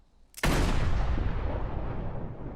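A single loud gunshot from a Spider Noir episode: an abrupt, close blast followed by a long, dense reverberating roar that slowly decays.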